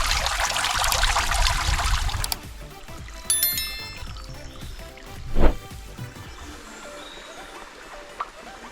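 A small mountain stream, the Torrent de Colobrers, runs low with a broad rushing wash for about two seconds, then drops to a faint trickle, with a soft thump and a brief metallic ring.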